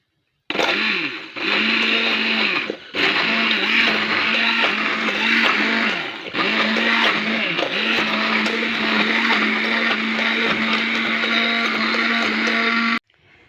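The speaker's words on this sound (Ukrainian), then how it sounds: "Зараз продовжимо збивати порожним блендером." An immersion blender whirs steadily at high speed for several seconds, its motor pitch dipping briefly as it works through a thick mixture, with short pauses between.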